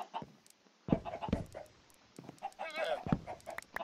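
Chickens in Minecraft give a string of short, blocky clucks in irregular bursts, fairly close and moderately loud against a low background.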